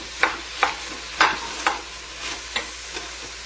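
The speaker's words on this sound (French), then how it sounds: "on a mis nos pommes, bien on brasse aussi régulièrement pour que ça colle" A spoon stirs apples cooking in a pan for apple turnovers: soft, evenly spaced scraping strokes, about seven over a few seconds, over a faint low sizzle, quiet and close.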